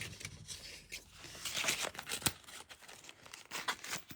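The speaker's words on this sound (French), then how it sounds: "je vais découper les petites branches" Scissors snip and rustle through paper, cutting out small stamped branch shapes for a handmade card, a close, quiet run of irregular crisp cuts and crinkles.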